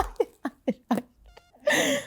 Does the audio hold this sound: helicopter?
no